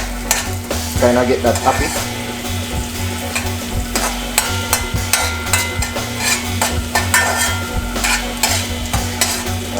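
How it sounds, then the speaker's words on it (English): Scallions frying in a pan for Jamaican seasoned rice with mackerel, stirred with a utensil. Loud, constant sizzling is broken by repeated scraping and clacking strokes, with a voice talking briefly over it. "add in some of the scallion, or otherwise known as green onion. Add that in. Mix this around a little bit."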